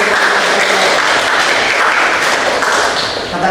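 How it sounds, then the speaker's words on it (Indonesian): An audience applauds at a teaching presentation: dense, steady clapping from many hands, loud and continuous throughout with no break. "Kita beri aplaus."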